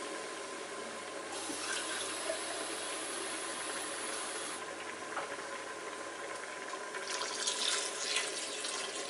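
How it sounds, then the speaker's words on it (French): Water is poured into a pressure cooker of beef bourguignon, a steady close splashing and trickling stream running for several seconds with slight swells, over a low background hum. "Voilà, on va rajouter un petit peu d'eau."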